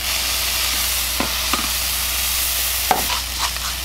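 A jalapeño cheese burger sizzles in a hot pan, a steady close crackle of frying with a few light scrapes and taps of a utensil over it.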